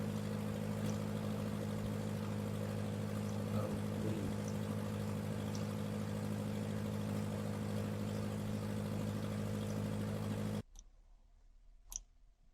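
A vehicle exhaust sound effect from a modern vehicle sound design library plays as a steady, droning engine hum with faint clicks, then cuts abruptly to near silence with a couple of sharp ticks.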